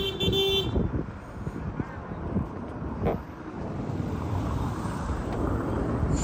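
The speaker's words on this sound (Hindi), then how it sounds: "फुल ठंडी ठंडी हवा चल रही है" Cold wind rushes and buffets the microphone outdoors at the snowy Malam Jabba mountain resort, a continuous gusty roar with brief tooting tones near the start and a voice talking over it.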